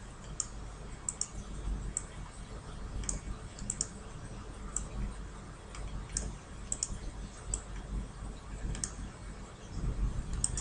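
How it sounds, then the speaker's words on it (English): Computer mouse clicks while a Microsoft Access form is being designed, sharp light clicks arriving singly and in quick pairs at an irregular pace over a quiet room hum, close and crisp. "I will then deselect the picture by clicking anywhere on the white area, and select and drag each field"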